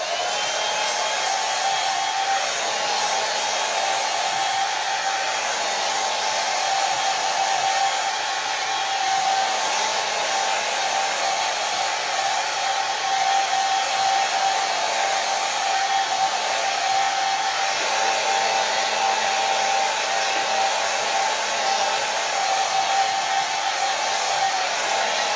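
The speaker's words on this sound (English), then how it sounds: "I am going to hit this with the blow dryer" A hair dryer runs steadily the whole time, a constant loud whooshing hum with a faint whine, no pauses and no voices.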